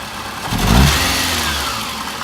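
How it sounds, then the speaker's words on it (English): A car engine in a mechanical test has its throttle snapped once, rising quickly to a loud rev and then easing back toward idle, close and clear with no talking. "We're also going to test when he snaps the throttle."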